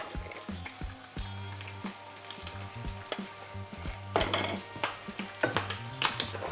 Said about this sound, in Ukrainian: лучок вже подрумянився і ми сюди кинемо цукор, чайну ложечку